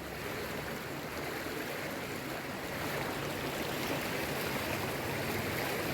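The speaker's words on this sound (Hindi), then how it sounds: "सड़क पर पानी सैलाब की तरह दौड़ रहा है" Floodwater two to three feet deep rushes along a submerged market street in Bundi after rain, a loud, constant broadband roar of moving water with no pauses.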